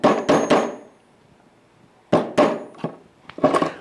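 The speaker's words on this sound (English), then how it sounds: "With a sharpened screwdriver, we're going to delicately raise this cap up out of here." Sharp metallic clicks and knocks from a sharpened screwdriver prying a cap out of a steering rack housing, heard as a quick triple burst, a pause, then several more close, loud taps and scrapes with no talking.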